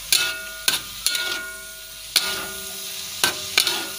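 A spatula scrapes and clacks against a frying pan while sambal with anchovies and pete is stirred, giving a few sharp knocks spaced over a faint background sizzle, with no talking.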